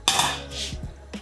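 A non-stick frying pan set down on a kitchen hob, giving a single close metallic clunk followed by a brief scrape and a faint clink.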